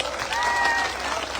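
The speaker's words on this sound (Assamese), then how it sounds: "জোৰকে এটা হাত তালি" Rally crowd clapping steadily at a political speech, a dense continuous wash of applause with a faint voice under it.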